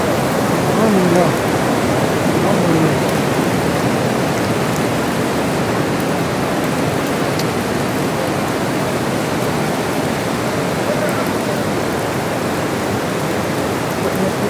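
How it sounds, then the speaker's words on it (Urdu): Steady rain falls at Madinah at iftar time during Ramadan, a constant dense broadband hiss filling the whole stretch without any clear pauses. "روزے کا وقت ہے اور رحمت کی بارش ہو رہی ہے سرکار کے در پہ"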